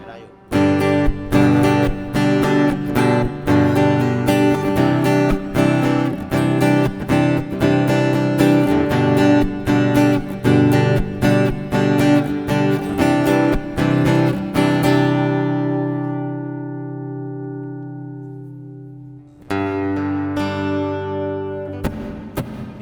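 An acoustic guitar fitted with an installed pickup plays through an amplifier with reverb turned up. Loud, close strummed chords ring out, then a last chord decays into a long, washy reverb tail before strumming resumes.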